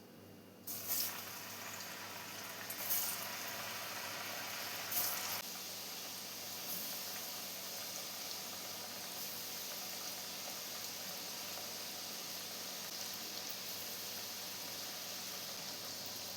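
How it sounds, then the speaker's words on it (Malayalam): Banana pieces frying in hot oil in a pan for spicy pazhampori, a steady soft sizzling hiss throughout with a few brief clinks early on, close but fairly quiet. "ഇപ്പോൾ ഒരു പാൻ വെച്ച് ഓയിൽ ഒഴിച്ച് ചൂടായി വന്നിട്ടുണ്ട്. ഇതിലോട്ട് നമുക്ക് ഓരോ ബനാന പീസസ് എടുത്ത് ഇട്ട് കൊടുക്കാം."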